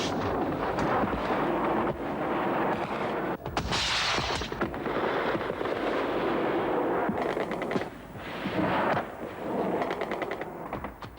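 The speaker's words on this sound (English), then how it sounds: "Flak narrowly misses a swooping Su-25." Anti-aircraft flak firing at a swooping Su-25 ground-attack jet in the Soviet-Afghan war, a dense, continuous roar of rapid bursts and booming blasts, loud throughout with brief lulls.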